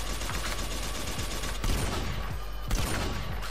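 Rapid bursts of automatic gunfire in a DayZ shootout on a mountain, including CZ rifle fire: dense, repeated cracks fired close by with brief pauses, fairly quiet overall.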